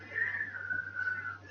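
A voice imitates the thin whistle of air through a broken nose: one sustained, wavering whistle, fairly close and alone, lasting just over a second.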